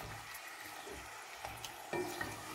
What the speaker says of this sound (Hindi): अब यहाँ पे इसके अंदर डाल देंगे मटन। और इसका कलर चेंज होने तक इसको पकाएंगे